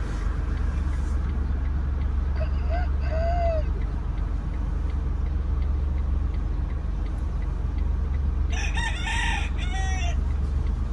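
A rooster roaming a Little Haiti street in Miami crows twice, once early and once near the end, fairly distant, over a constant low engine idle.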